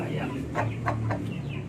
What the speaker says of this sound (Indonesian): ini ayam kesayangan saya, ini tinggi besar, kalau nyampe ngorok sayang kan